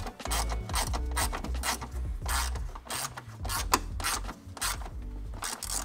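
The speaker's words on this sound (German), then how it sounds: "deswegen ziehe ich jetzt erstmal die Kunststoffmutter hier an" Plastic nut on a BMW E39 tail light being tightened by hand, giving a steady close run of rubbing, ratcheting clicks and scraping throughout.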